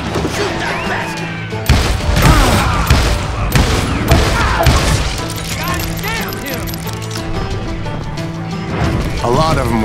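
Rapid gunfire in the Western shooter video game Call of Juarez Gunslinger: loud repeated revolver and rifle shots with cracks and thuds over a busy, continuous battle din.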